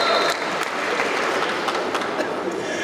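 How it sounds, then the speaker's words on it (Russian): Audience applause at a fan meet-up with a UFC fighter in Bishkek: dense, sustained clapping from a crowd, steady and fairly loud throughout. "Поаплодируем человеку, который решил сегодня просто стоять."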